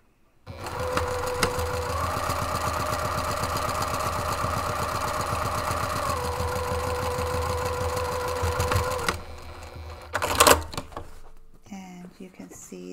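A sewing machine runs in one long, steady stretch of rapid mechanical stitching while seaming fabric panels of a desktop caddy box, then stops abruptly, followed by a brief clatter and quiet handling noises.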